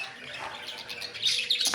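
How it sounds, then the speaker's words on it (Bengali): Pet budgerigars call softly at night, with faint scattered chirps that grow a little busier toward the end, heard close in a quiet room. "আর বাকিরা কেউ গা চুলকাচ্ছে, ডাকাডাকি করছে, যে যার মতো খুব ব্যস্ত না ঘুমিয়ে।"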